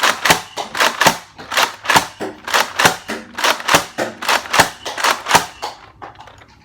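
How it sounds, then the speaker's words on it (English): A Nerf Mega Rotofury blaster fires in slam fire mode, letting off a rapid, loud string of about twenty sharp pops in a steady rhythm that stops abruptly near the end. "Okay guys, so that slam fire normal mode, and we're gonna do the slam fire now."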